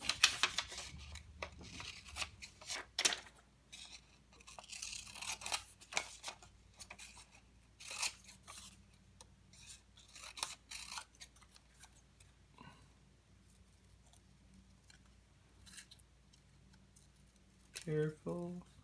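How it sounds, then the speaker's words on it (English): Scissors snip through paper while an origami or kirigami fish is cut out, with quiet irregular clicks and crisp cuts close by, and a person talking at times. "Careful, turn the paper so you can cut that out."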